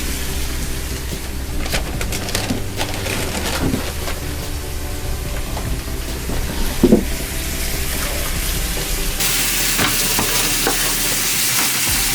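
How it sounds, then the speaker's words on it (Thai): Cashew nuts are stir-fried, with a continuous loud sizzle and crackle and repeated scraping and tossing strokes across the pan throughout. "บอสผัดเม็ดมะม่วง"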